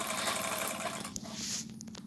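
A sewing machine stitches a quilt cover, rapid rhythmic mechanical clatter up close that slows and stops near the end, followed by a few small clicks.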